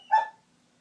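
A single short dog bark at close range indoors, one sharp yelp that cuts off quickly and leaves a quiet room hum.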